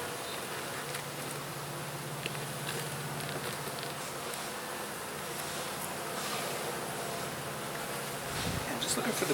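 Honeybees hum in a dense, continuous buzz around an opened home hive during an inspection, with smoke in use, close and steady throughout.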